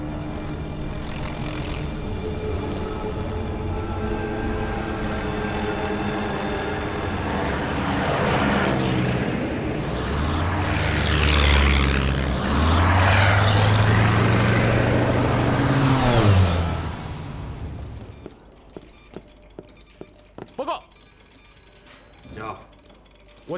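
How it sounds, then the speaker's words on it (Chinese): A squadron of WWII-era Japanese carrier fighters from the carriers Kaga and Hosho roars aloft, a loud swelling engine drone that builds and sweeps past for about seventeen seconds, then cuts off into near silence with a few scattered clicks. "加贺号、凤翔号航母战斗机中队已经升空拦截"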